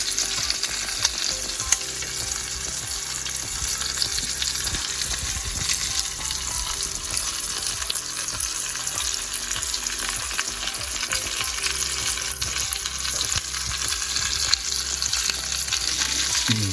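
Steak fries in a pan with butter and oil, giving a steady, loud sizzle and crackle that runs unbroken throughout, with no talking over it.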